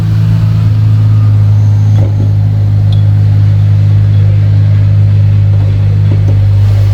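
A 3.6-litre car engine, the same unit used in the Wrangler and fitted with an aftermarket exhaust, runs close by with a loud, steady low hum and no obvious revving.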